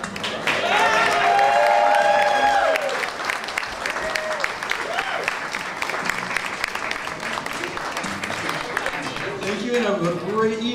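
Audience applause at a fall 2011 design showcase honoring the collection's designers, a steady wash of many hands clapping for about ten seconds with cheering and voices mixed in, loudest in the first few seconds.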